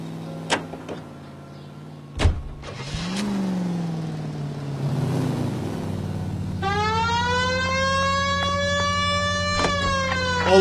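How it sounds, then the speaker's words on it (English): A police siren in the video game LA Noire starts up partway through over a car engine hum, wailing loudly and steadily after a few sharp clicks and thumps. "We have a siren."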